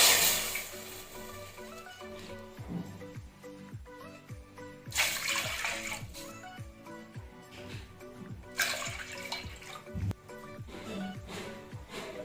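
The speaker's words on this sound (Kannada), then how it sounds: "ಈ ಕಪ್ಪಲ್ಲಿ 3 ಕಪ್ಪಷ್ಟು ನಾವು ನೀರನ್ನ ಆ್ಯಡ್ ಮಾಡ್ಕೊಳ್ಬೇಕಾಗತ್ತೆ." Water poured into a pot for sweet avarekalu pongal, a continuous splashing and trickling stream that surges louder in two bursts, close by and without talk.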